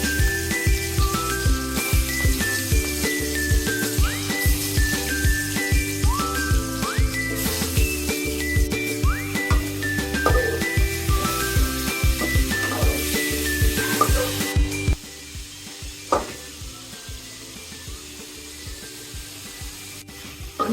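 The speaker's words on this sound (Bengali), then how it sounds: "তেল গরম হয়ে গেছে, আমি মুরগির মাংসগুলো ভেজে নিচ্ছি।" Pieces of turmeric- and salt-rubbed chicken fry in hot oil for a village-style chicken and cabbage curry, a loud continuous sizzle with clinking stirs that drops sharply quieter near the end.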